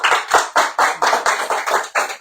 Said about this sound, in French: nous on les aime bien, on les applaudit.